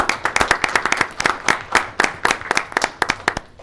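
A small group claps at a county commission meeting, a brief burst of distinct, close handclaps with an uneven rhythm that thins out toward the end.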